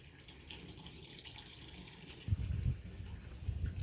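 Water poured onto rose plants in a garden, a soft trickle that becomes a fuller, gushing pour partway through, close and steady.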